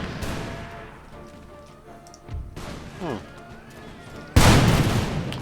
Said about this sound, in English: they're actually firing a lot more than rank fire from a different nation would be